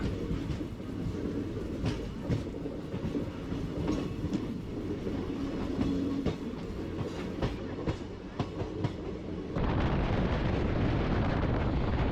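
A passenger train runs along the track on the Bhimavaram to Nagarsol route, a steady loud rumble with rhythmic clicks of the wheels and a heavier roar near the end.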